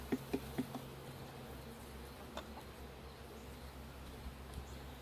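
Honeybees buzz steadily around an open hive during a small swarm being combined into a weak colony, a soft low hum throughout with a few faint ticks and knocks near the start.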